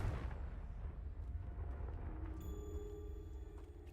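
A Confringo spell explodes in the video game Hogwarts Legacy, producing a soft, low rumbling blast that slowly dies away while a faint ringing tone rises near the end.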